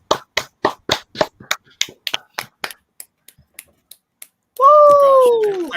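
Quiet, soft clapping done with an object held in one hand, about a dozen light, sharp claps at a brisk rhythm that thin out and fade, followed by a sustained voice.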